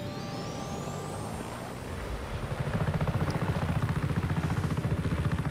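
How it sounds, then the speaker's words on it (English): Helicopter in the video game Just Cause 3, a steady engine drone that swells into a loud, fast rotor chop with a faint whine above it. "You can take this chopper"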